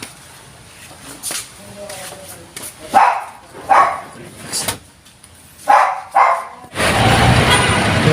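A dog barks four times in short, sharp bursts at moderate distance in Marikina while a car is being driven. The barks fall in two spaced pairs over background hum, followed by a sudden loud, steady rush of noise.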